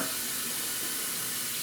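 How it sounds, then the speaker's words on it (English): Cool drinking water pours steadily into a 6-gallon primary fermenter for a Merlot wine kit, a continuous close hiss and splash with no voices. "Top primary fermenter up to 6 gallon mark with good quality cool drinking water."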